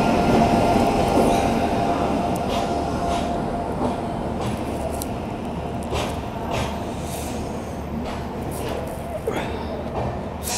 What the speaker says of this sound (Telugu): సో ఫైనల్గా మన ట్రైన్ అయితే వచ్చింది.